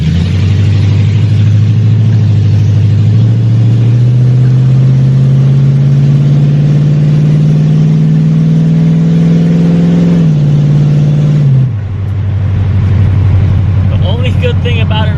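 A daily-driver automatic car with a modified exhaust driving, its engine droning loud and close with a slowly rising pitch, then dropping as it shifts near the end, with a person talking over it.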